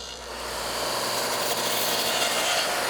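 A radial arm saw cutting dadoes in wood: a loud, continuous rasping cut that builds in the first second and holds steady, heard alone.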